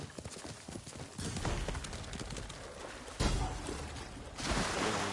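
Horse hooves clip-clopping in a video game, a quick rhythmic trot of clopping steps with shifting loudness across several segments, joined by cooing pigeon-like bird calls in the background.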